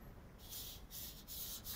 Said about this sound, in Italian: con questa, a smerigliare questa roba qui, a scartare